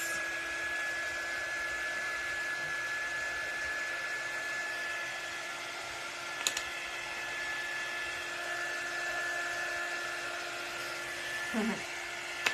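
An electric hair dryer blows steadily to dry sugar-coated exclamation point decorations, a constant close whirring drone with a tonal whine, plus a couple of faint knocks.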